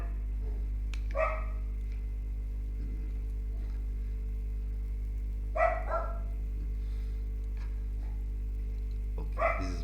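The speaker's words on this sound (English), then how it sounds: "this is my dog" A dog barks in short bursts, three separated clusters of a few barks each, moderately near over a steady low electrical hum, with no talking.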